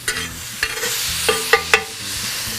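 A home cook stirs and scrapes stuck fond off a hot pan after pouring in a little water while making shrimp chow mein, giving close, soft sizzling with several sharp clicks of utensil against the pan.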